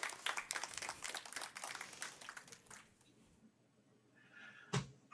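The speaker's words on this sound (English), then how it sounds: "Big round of applause" Conference audience applause, dense and steady at first, then thinning out and fading, followed by a single sharp knock.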